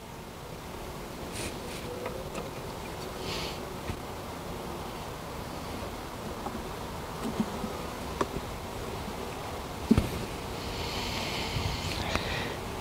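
Honey bees buzz around an open hive during an inspection, a faint continuous drone with occasional nearer passes and light handling clicks, no talk.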